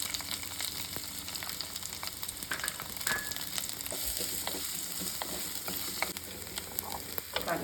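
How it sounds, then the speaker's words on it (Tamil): A large chopped onion fries in oil for a Kerala-style kadala curry, giving a steady, loud, continuous sizzle with occasional crackles and stirring, and no talking over it. "ஒரு பெரிய வெங்காயம் கட் பண்ணி வச்சுருக்கேன், அதுவும் போட்டுக்கிறேன்."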